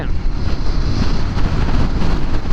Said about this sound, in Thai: ลมแรงมากฮะดูที่ต้นไม้